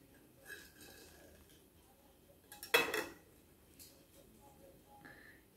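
Homemade air-fried street food is cut on a plate, giving a short, close clatter of cutlery on the dish midway through an otherwise quiet stretch, with a faint voice in the background.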